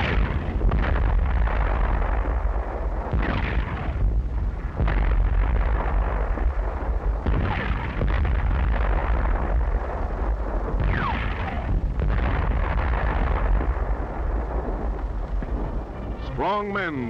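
Tank guns firing on a gunnery range, repeated heavy booming blasts over a constant low rumble, loud and dense throughout, with a narrator's voice speaking over the barrage.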